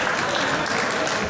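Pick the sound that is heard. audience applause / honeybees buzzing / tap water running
audience applause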